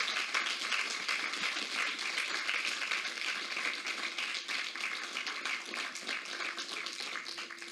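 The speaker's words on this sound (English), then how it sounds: "Can you give a round of applause to the panellists" A school audience at Temple Moor School applauds the panellists after a careers panel, with many hands clapping in a steady, slightly uneven patter at moderate distance that tapers gently near the end.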